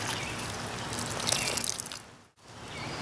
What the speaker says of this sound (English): Water in a jar.